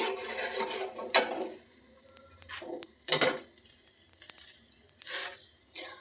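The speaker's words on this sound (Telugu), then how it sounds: "ఒక్క నిమిషము కాల్చుకుందామండి, ఒక్క నిమిషం" A dosa roasting with oil drizzled around it on a pan crackles and sizzles softly, broken by a few sharp spatula scrapes and taps against the pan; no talking.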